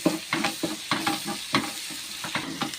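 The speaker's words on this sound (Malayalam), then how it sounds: "നന്നായിട്ട് ഇളക്കാം." Beef roast being stirred in a pan with chili flakes, a spoon scraping in quick irregular strokes over a soft sizzle, close and fairly loud, with no talking.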